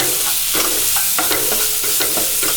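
Tomatoes are stirred and sautéed in a pan for mushroom gravy, with a loud, continuous hot sizzle under intermittent scraping strokes of a spoon, close up and without talk.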